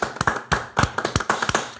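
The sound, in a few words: applause, round of applause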